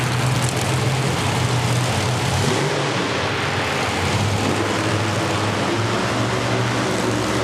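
The E3 Spark Plugs Bigfoot monster truck engine rumbles at an outdoor arena event, a loud, continuous droning roar holding steady throughout with no speech.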